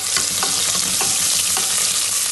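Onion and chopped tomato sizzle and fry steadily in a pan for chicken biryani, a dense continuous hiss broken by soft periodic stirring scrapes, close and fairly loud with no talking.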